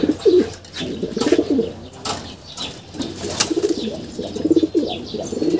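Racing pigeons arriving home coo in repeated soft, throaty bursts close by, with a few brief wing flaps and rustles between the calls.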